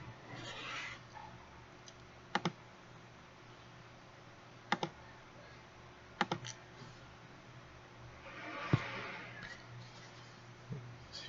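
Sharp clicks of a push button on a counting circuit in an electronics lab, a few separate presses spaced a couple of seconds apart over a low steady hum, with a brief soft rustle.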